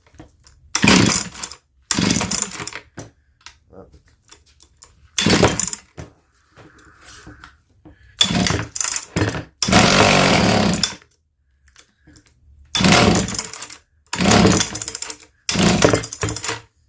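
A 1963 Jonsereds chainsaw, choked and refusing to run, pull-started again and again: bursts of loud, rough starter-cord ratcheting, each about a second long, separated by quiet pauses, close up.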